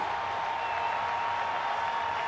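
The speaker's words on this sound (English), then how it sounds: "Derek Lee getting a nice round of applause" Wrigley Field crowd at a Diamondbacks–Cubs baseball game giving Derek Lee a steady, sustained round of applause, a dense wash of clapping and cheering from a large stadium audience at moderate distance.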